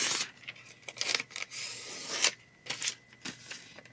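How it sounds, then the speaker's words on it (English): Thin heat press paper being ripped by hand in a series of short, crisp tearing bursts with brief pauses between, close and fairly quiet. "Might even see if I can rip it because it's thin enough."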